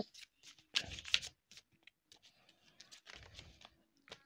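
Oracle cards are handled and one is drawn from the deck, giving quiet, close papery shuffles, slides and flicks in short irregular bursts, with a few soft sounds in between.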